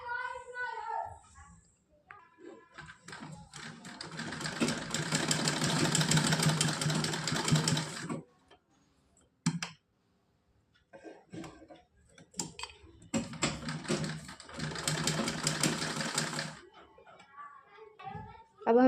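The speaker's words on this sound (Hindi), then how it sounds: "अब इस पर सिलाई करेंगे मशीन से।" A sewing machine stitching a small festival dress for a Kanha idol, running in two long bursts of rapid mechanical whirring separated by pauses, close by, with someone talking before and between runs.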